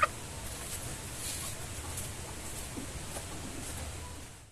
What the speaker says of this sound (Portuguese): Já guardamos ali as galinhas da dona Adriana, né?